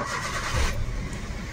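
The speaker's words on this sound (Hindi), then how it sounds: "अब गाड़ी को करते हैं स्टार्ट।" A Maruti Suzuki WagonR with a company-fitted CNG kit starts up on CNG, a short burst of close, broadband engine noise that shifts in tone partway through.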